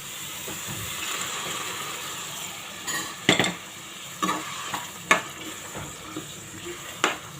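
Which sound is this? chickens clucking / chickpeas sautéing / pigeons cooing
chickpeas sautéing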